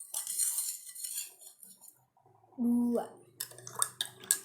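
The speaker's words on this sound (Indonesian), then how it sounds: "Kita aduk-aduk." A spoon stirs salt into water in a glass, giving a brief burst of bright clinks and scraping against the glass after a stretch of talk, with speech continuing around it.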